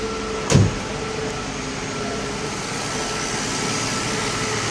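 A Mercedes S600 engine with a throttle control (egas) module issue, heard with the hood open, running steadily as a continuous even hum, after a brief knock near the start.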